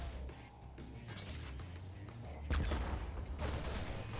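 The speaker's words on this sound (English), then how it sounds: "When you play with Reapers and you throw grenades" Reaper grenades going off in a StarCraft match, a steady rumble of game combat with a burst of sharp crackling explosions near the middle, then a second loud cluster.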